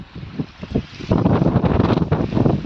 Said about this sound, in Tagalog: sa tabi ng dagat na napakalamig, ang lakas ang simoy ng hangin